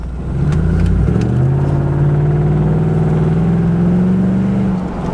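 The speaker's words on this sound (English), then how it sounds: "I want y'all to hear the exhaust and the engine and all that good stuff" A Chevrolet Trailblazer SS engine is given gas, rising into a loud, steady rev with a throaty aftermarket-style exhaust drone held for several seconds before easing off, close to the vehicle with no talking.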